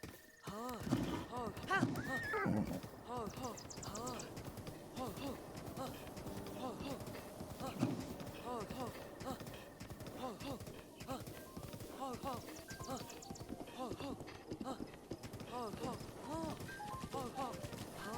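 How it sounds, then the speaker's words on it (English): Rapid horse hoofbeats clip-clop continuously with whinnies mixed in, in The Legend of Zelda: Breath of the Wild, under a steady backdrop of game music and a voice talking throughout. "Good, Big Horse. Good, Big Horse. There we go"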